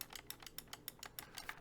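A reassembled DZ Venom Pro blaster's rev mechanism clicks in a steady rhythm, about nine sharp, close mechanical clicks over a second and a half with no talking.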